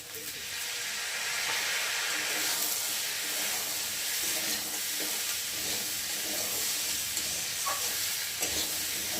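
Mixed vegetables and green peas are stir-fried together in a pan, giving a soft continuous sizzle and hiss with faint stirring scrapes, heard alone and at moderate distance.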